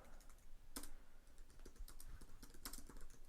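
Faint, soft keystrokes on a computer keyboard while text is entered into Arduino code, a steady irregular patter of taps with a couple of louder clicks.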